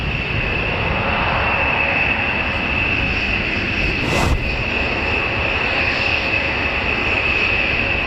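Jet engines of USAF B-1 Lancer or B-52 Stratofortress bombers at RAF Fairford make a loud, steady roar with a whining tone, heard from a distance with no talking and a brief swell near the middle.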